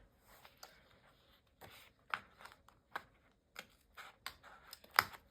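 Small scissors trim the excess from the corners of a sticker sheet. Soft, close snips and paper rustles come in sparse bursts, growing slightly sharper toward the end, with no voices.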